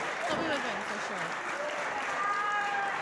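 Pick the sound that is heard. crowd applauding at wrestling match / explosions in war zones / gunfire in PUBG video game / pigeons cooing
crowd applauding at wrestling match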